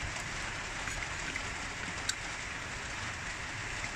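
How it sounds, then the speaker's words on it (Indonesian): Rain falls steadily outside as a continuous, even wash of hissing noise, with a faint tick now and then and no voices. "Lagi hujan mungkin suaranya agak terganggu ya."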